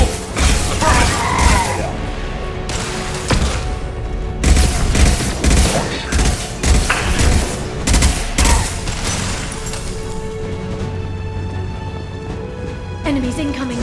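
Mass Effect 2 combat fills the scene with loud sustained gunfire bursts, mechanical clanks and a heavy grenade blast, along with game music and voices speaking throughout.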